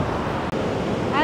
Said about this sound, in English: Look at those waves crashing.